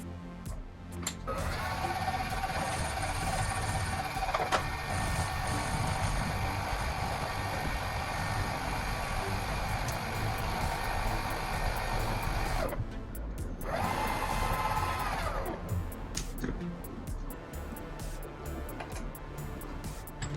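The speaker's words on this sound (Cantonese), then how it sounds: "呢粒 M6 緊定螺絲桿固定喺轉機度打磨，" An M6 set screw rod spins on a rotary machine while being ground smooth at both ends, a steady loud mechanical whir with a high whine that runs continuously, dips briefly near the end, then resumes before fading into rougher noise.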